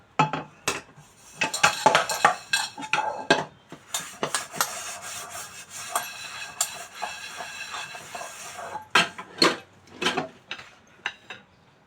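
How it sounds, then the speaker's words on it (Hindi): Dishes, pots and utensils being washed by hand in a home kitchen: repeated close clinks, clatters and scraping rubs of metal and crockery in irregular bursts, with no talking. "मेरा बर्तन धो के हो गया"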